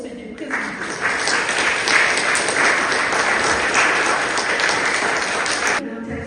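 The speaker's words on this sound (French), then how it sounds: "Je vous invite à applaudir vos conseillers presbytéraux." A Protestant congregation in Gundershoffen applauds its parish councillors during an Ascension Thursday service, a full, even round of many hands clapping that swells in and holds for about five seconds before stopping abruptly.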